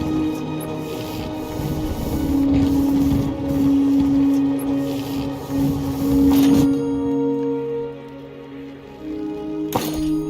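The Void Train in Dragon Age: The Veilguard rumbles steadily as it moves, with a hissing wash and a droning tone. The sound shifts and thins partway through, and a sharp burst comes near the end.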